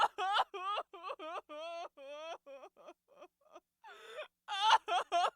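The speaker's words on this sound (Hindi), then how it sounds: "तभी दूर से किसी की रोने की आवाज आने लगी।" Wavering, sobbing wails come in short repeated bursts, like someone crying, with pauses between cries, fairly faint overall.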